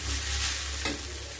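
Vegetables tossed with garam masala sizzle in a frying pan with a dense, close hiss, and one quick scrape of a stir cuts through partway.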